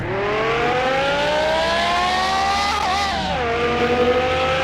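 A car engine in Car Mechanic Simulator 2021 revs hard and loud in first gear, a continuous rising whine that dips briefly near the end as the gear changes and then climbs again.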